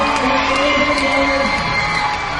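A loud crowd cheers and shouts continuously at a 2007 MLG Las Vegas esports championship final, whoops rising over a dense wall of voices.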